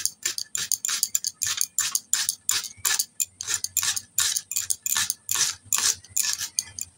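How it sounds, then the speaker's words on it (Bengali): A knife chops onions on a cutting board in a home kitchen, sharp rhythmic knocks repeating steadily and close up, with no talk. "তো এখন আমি এই পেঁয়াজ দুটো কেটে নেব"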